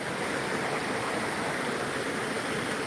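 A waterfall at night pours in a constant, even rushing hiss, close and unbroken, with no voices.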